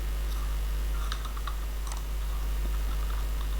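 Fingers type on a computer keyboard while entering text in MS Word, light scattered key clicks in short bursts over a steady low hum.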